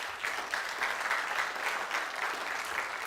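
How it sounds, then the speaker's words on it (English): Audience applause for the speakers at a TEDx event at Nile University of Nigeria, a steady wash of many hands clapping at moderate level for about three seconds, with no voices over it. "So please, a round of applause for our speakers once again."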